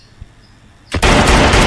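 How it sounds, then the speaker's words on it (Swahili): Gunfire from a film erupts after a quiet moment as a loud, sustained volley of rapid shots that fills the rest of the stretch. "Piga risasi nyingi."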